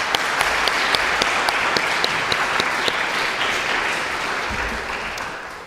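An audience at a housing milestone celebration breaks into steady applause, dense clapping close and even for several seconds before gradually tapering off at the end.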